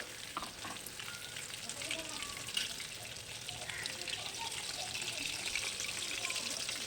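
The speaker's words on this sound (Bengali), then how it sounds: "এবার এইগুলোকে উল্টিয়ে দেব আর উল্টিয়ে পাল্টিয়ে আমি পছন্দ মতো কালার করে ভেজে নিব" Chicken pieces fry in oil over medium heat for a quick chicken fry, producing a continuous soft sizzle with occasional light crackles and stirring noises as the pieces are turned.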